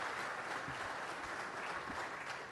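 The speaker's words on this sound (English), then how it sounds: "You can clap." Audience members clap together at a city council meeting, a dense, even wash of applause that holds steady for a couple of seconds without any speech.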